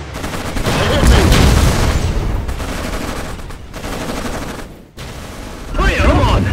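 Battle gunfire from the Codename: Panzers – Phase Two war game, sustained rattling volleys and booms filling the whole stretch, loud and dense, with voices shouting over the combat.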